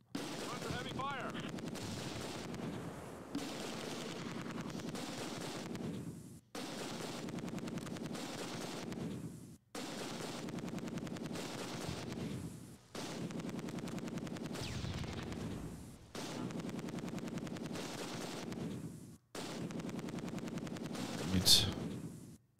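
MG42 machine gun fire in the Close Combat 2 war game, sounding as long rattling bursts repeated roughly every three seconds, loud and dense with battlefield noise.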